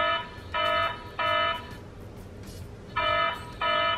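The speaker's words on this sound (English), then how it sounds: "The base station has issues too, and the most annoying one is the loudness of the alarm." A Kami home security base station sounds its alarm: four pulsed electronic beeps with a steady pitch, each lasting about a third of a second, in an on-off pattern that is moderately loud and otherwise alone.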